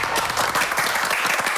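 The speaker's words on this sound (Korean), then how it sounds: "일단 박수 한번 치고 갈게요." A short burst of group applause in a studio before an arm-wrestling contest, dense lively clapping from several people at an even level, cut off abruptly after a moment.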